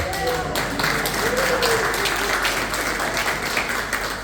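An audience at a talk on agriculture applauds in a moderate, continuous patter of clapping, with voices murmuring through it and a tonal voice rising briefly in the middle.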